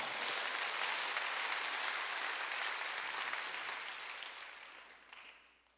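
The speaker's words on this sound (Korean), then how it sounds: "사랑은 표현하는 걸 믿으면 박수 쳐야 돼요" A church congregation at a Wednesday worship service applauds, a dense, sustained wash of clapping from many hands that holds steady and then gradually fades out.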